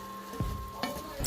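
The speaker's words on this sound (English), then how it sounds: "I can hear everything sizzling" Vegetables and potatoes cook low and slow in olive oil and butter, a soft steady sizzle broken by a few scraping stirs of the pan, close and fairly quiet, with no voices.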